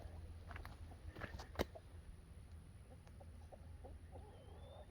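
Broody hen fussing with soft, low clucks and a few brief sharper squawks, faint and close in a quiet coop with light rustling around.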